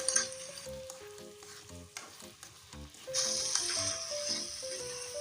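Shrimp dropped into a pan of softened tomato and stirred, sizzling and frying steadily with repeated scraping strokes of the spoon; a higher, louder hiss swells midway as the cold shrimp hit the hot oil, with no talk.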